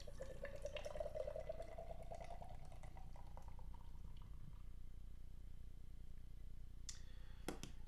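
Harpoon American Flyer Lager poured from a can into a glass, a quiet gurgling stream whose pitch rises as the glass fills, then fizzing foam and a couple of light clinks near the end, no talking.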